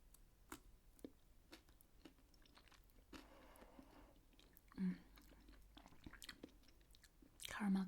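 Close, quiet chewing of a chocolate-topped biscuit with puffed rice or biscuit bits, with scattered soft crunches and a couple of louder bites over a faint background.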